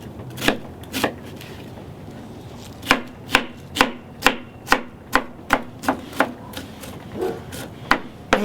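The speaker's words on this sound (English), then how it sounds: "Just get it chopped up, and probably cut a little bit more." A knife chops an ingredient on a wooden board, with a few scattered cuts and then a run of sharp, evenly spaced chops about twice a second, loud and close with no talking.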